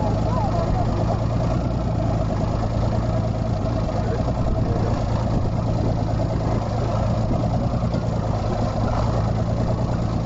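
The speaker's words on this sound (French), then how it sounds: "je suis désolé sur Facebook pour le bruit du moteur, c'est pour la batterie" A boat engine runs steadily to charge a battery during an underwater dive livestream, a constant mid-to-low droning hum filling the whole clip at close range.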